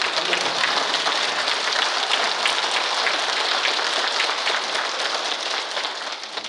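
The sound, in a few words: audience applause after a lecture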